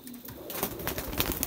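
Dub-type pigeons, mixed breed, cooing at a breeder's loft in Bakshi Nagar, Jammu and Kashmir, with soft continuous coos and rustling close by, several birds overlapping with no voices.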